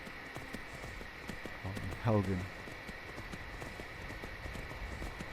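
Horse hooves clip-clopping at a run in Skyrim, a steady close rhythm under speech, with a brief louder burst in the middle.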